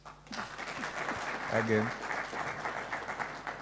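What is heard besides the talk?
audience applause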